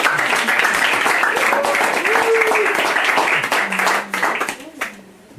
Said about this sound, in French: Applaudissements, messieurs, dames.